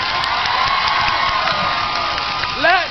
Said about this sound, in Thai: ปรบมือดังให้กำลังใจพี่น้องครับ